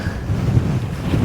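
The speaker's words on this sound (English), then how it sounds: "It's a windy one, isn't it?" Strong wind roars and buffets the microphone on the exposed summit of Gavel Fell, a Lake District fell, as a loud, continuous rush with no talk.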